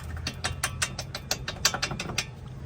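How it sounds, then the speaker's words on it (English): Rapid ratchet clicks from a wrench loosening the 22 mm strut arm bolts on a Toyota during CV axle replacement, a steady run of about a dozen sharp close metallic ticks with no talk. "we're gonna remove the 2 bolts from the strut arm"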